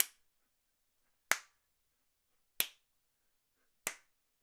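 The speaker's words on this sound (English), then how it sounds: "I put it in omni so I can really go around the room and clap a bunch of times." Four single hand claps, recorded in a room through an omnidirectional microphone, each sharp and loud with a short room decay, evenly spaced about a second and a quarter apart against silence.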